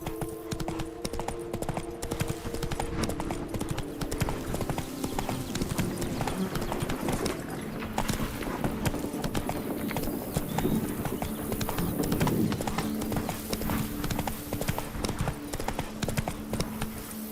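A horse gallops in The Witcher 3: Wild Hunt game with fast, continuous hoofbeats that stay close and loud. A soft game soundtrack hums low beneath them.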